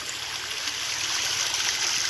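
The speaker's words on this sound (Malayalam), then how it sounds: "നടന്നു പോകുന്ന സ്റ്റെപ്പിൻ്റെ മേളിൽ കൂടെ വെള്ളം ഒഴുകുന്നുണ്ട്." Rainwater after two days of rain pours over walking steps in a rubber plantation, giving a steady, close, rushing flow that babbles like a small stream, with no voices.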